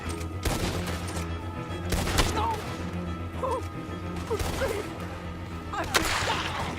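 Repeated gunshots in Red Dead Redemption 2 crack out sharply at irregular intervals, several loud reports over a rumbling game background, with someone shouting between them.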